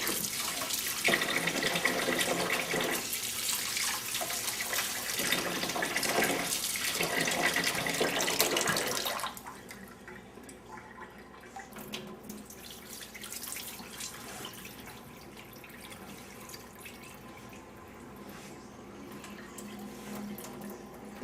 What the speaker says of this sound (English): And you wash it in lukewarm water.